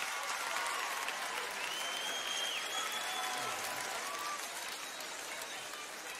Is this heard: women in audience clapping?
yes